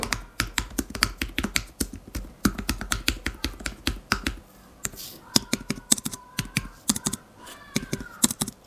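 Close typing on a Logitech Keys-To-Go 2 tablet keyboard with quick clustered clicks, then slower, sparser key presses, including a few heavier taps. No one speaks.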